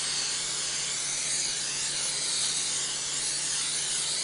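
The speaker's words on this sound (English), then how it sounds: "I'm gonna use Pam to spray it with." Pam cooking spray hisses steadily into a 9 by 13 baking pan, one continuous close, airy spray lasting several seconds with no talking.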